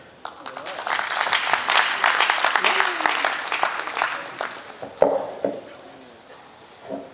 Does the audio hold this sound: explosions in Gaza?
no